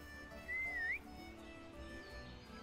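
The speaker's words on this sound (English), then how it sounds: "you can call your horse if he's too far away, depending on the bond level, which will determine on whether he gives a damn about your whistle" A single rising, wavering whistle calls a horse in the video game Ranch of Rivershine, standing clear over a low steady game ambience for about half a second.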